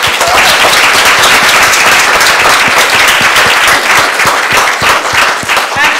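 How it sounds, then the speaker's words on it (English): A crowd applauds loudly, with dense, steady clapping that keeps going throughout. "Give them a round of applause."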